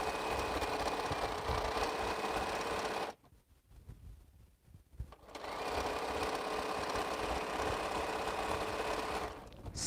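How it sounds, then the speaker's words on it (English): A sewing machine stitches quilt pieces in two steady, loud runs with a brief pause between them while the fabric is repositioned. "I'm going to sew up to where my hand is"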